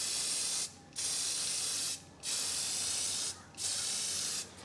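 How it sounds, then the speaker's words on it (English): An aerosol can spraying a protective coat over a print in back-and-forth passes: three steady, loud hissing bursts with short quiet gaps between them, and no one talking. "I don't want to have uneven application of the spray, so I just go back and forth this way."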